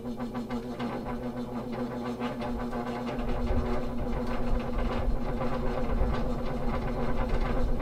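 A 1970s KDK 16-inch oscillating fan runs with a sluggish motor in need of oil, a steady low hum and buzz with rattly vibration that grows slightly louder partway through.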